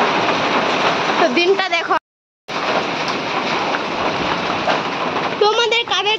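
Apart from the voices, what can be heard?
rain and hailstones falling during a Kalbaishakhi storm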